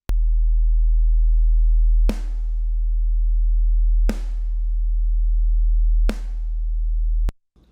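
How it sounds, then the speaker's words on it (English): A steady low 40 Hz sine hum runs throughout, punctuated by three sharp snare hits about two seconds apart, each decaying quickly, before the tone cuts off. "This is the printed track of the snare plus the sine wave"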